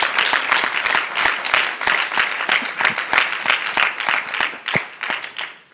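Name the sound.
audience applause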